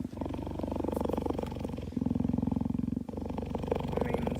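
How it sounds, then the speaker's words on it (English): A snow leopard purrs in a deep, continuous, rumbling throb that pulses steadily for several seconds, loud and close, with no voices over it. "Oh, they purr just like cats."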